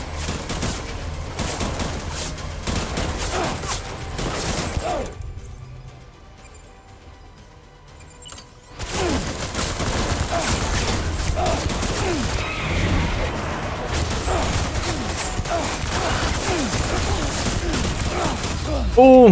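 Gunfire in Death Stranding rattles in dense automatic bursts, stops briefly during a quieter lull, then resumes as sustained heavy shooting through the rest of the fight, with voices mixed in.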